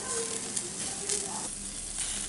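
Cutlets sizzle on a barbecue grill with a steady, close, dense frying hiss and faint crackles throughout, no voices.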